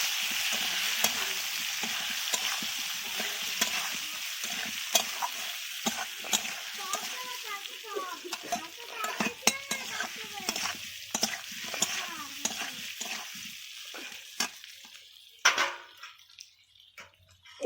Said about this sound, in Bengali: ভালো করে নাড়াচাড়া করে দিচ্ছি